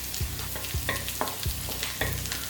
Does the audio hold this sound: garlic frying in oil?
yes